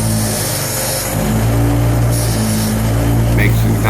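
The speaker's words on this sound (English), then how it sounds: "on our old polishing wheel here, cleaning up any residual paint" Polishing wheel spinning against a diecast car body to clean off residual paint, a loud steady motor hum with a low drone that rises slightly as the part is pressed, with speech over it.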